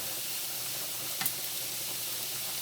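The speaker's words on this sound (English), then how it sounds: "Fry up a little bit." Maple sausage frying in a pan, a soft steady sizzle with one brief sharp hiss partway through.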